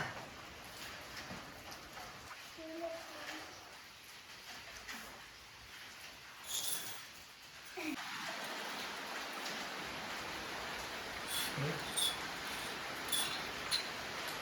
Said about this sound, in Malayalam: നല്ല അല്ല ചെറിയ കുഞ്ഞു മഴ